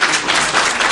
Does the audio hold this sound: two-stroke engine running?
no